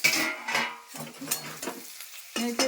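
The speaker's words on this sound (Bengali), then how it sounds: "আমি এখন করলা ভাজা দিচ্ছি, একটু নেড়ে চেড়ে" Bitter gourd and potato fry being stirred in a pan: a utensil scrapes and clatters in several short bursts over a steady, close sizzle of frying.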